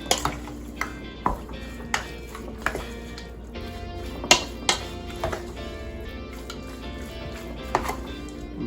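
Pork stew with paprika is stirred in a pot, giving repeated scraping clinks and taps of a utensil against the cookware in an uneven rhythm, close and fairly quiet, with no talking.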